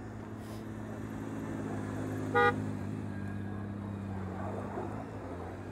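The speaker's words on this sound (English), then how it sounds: "Goddamn car horn on those gold wings" A Honda Gold Wing motorcycle horn gives one short, bright honk at a slow-speed riding practice area, standing out over a steady low engine rumble and outdoor background noise.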